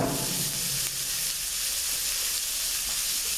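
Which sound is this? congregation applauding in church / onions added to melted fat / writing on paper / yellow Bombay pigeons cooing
onions added to melted fat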